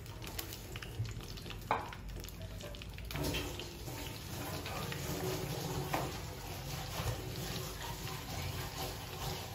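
Chicken pieces dropped into hot oil for deep frying, a soft steady sizzle with faint stirring and bubbling that swells slightly after the first few seconds, with no talk.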